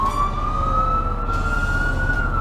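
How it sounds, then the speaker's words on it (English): A loud, steady fire truck siren from a second push switch rings out close by, rising slightly and holding on one sustained pitch without pause. "And that gives you a regular sound like a siren."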